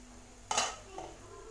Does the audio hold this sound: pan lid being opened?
yes